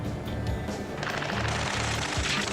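Gunfire rattles in Ace Combat 7 during a ground rescue under fire: dense bursts of automatic fire, loud and continuous, with no voices over it.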